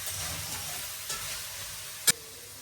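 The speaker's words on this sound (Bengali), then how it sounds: "দিয়ে দিলাম এই যে জিরা সম্বার। আর এই যে কাঁচামরিচ দিয়ে দিই।" Cumin seeds and green chillies sizzle softly in hot oil nearby, with faint crackling, a light stir and one sharp clink toward the end.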